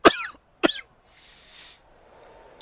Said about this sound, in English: Feeling a cough coming on.